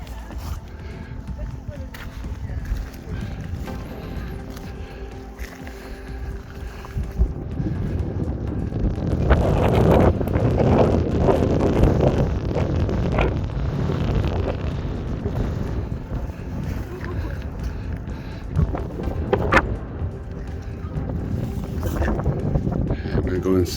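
Wind gusts across an exposed Cairngorms mountain top in Scotland, roaring and buffeting the microphone, building louder midway and staying steady, with people speaking now and then underneath.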